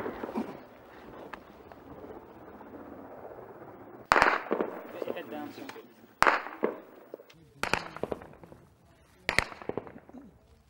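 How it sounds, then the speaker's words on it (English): Incoming gunfire at a military compound during a Black Watch operation, several sharp cracks at irregular intervals over a low background rumble, fairly distant and moderately loud. "we've been taking fire for the last half an hour"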